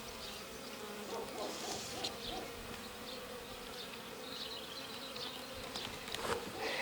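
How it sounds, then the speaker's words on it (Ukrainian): A steady, dense buzz of many honey bees at an Alpine-style hive hums continuously, close and even, with no voices. "бджоли між собою спілкуються, вони не агресивні одна до другої"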